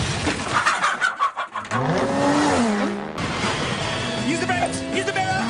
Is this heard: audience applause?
no